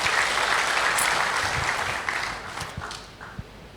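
A church congregation at a Sunday service claps together, starting as a full burst of applause and tapering off into scattered, fading claps over a few seconds.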